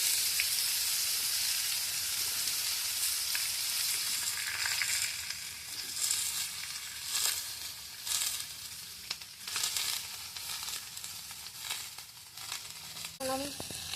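Bottle gourd with a green chili and potato sizzles and fries in a hot pan, a dense steady crackle that loosens into irregular pops and stirring scrapes, close and moderately loud.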